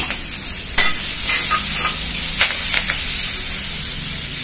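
Citron leaves, curry leaves, ajwain and garlic sautéing in a pan, a loud close hissing sizzle with a few sharp spatters and stirring scrapes throughout.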